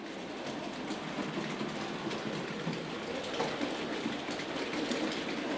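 Hornby R3548 model locomotive running slowly over a points crossover on a model railway, giving a steady, faint rolling rattle and hiss of wheels on track with light ticking clicks throughout.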